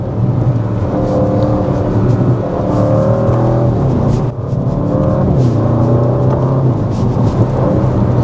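Audi RS6 GT with its high-torque engine pulling hard on a wet scenic route, a steady loud cabin drone with rising harmonic tones as revs climb, a brief dip midway then climbing again.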